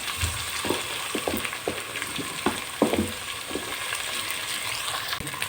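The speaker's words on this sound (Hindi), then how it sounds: "अब हम डालेंगे इसमें 2 टेबलस्पून अदरक लहसुन का पेस्ट" Two tablespoons of ginger garlic paste frying in ghee for an aloo salan, a constant bright sizzle punctuated by repeated clattering stirs of a spoon against the pan, close up with no voices.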